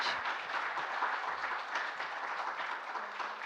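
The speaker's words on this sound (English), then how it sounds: "can we have another round of applause, please, for that?" An audience applauds steadily for several seconds after an academic presentation, a dense, even wash of clapping that holds throughout without fading.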